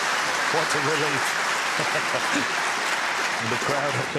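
A snooker crowd applauds a pot with a steady wash of clapping, sustained and even, while someone commentator talks over it in short phrases.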